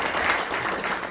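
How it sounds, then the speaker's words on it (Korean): Audience applause welcoming a speaker to the stage at a Korean business lecture, a dense steady clatter of clapping lasting about a second with no voices over it. "우리 큰 박수로 모시겠습니다."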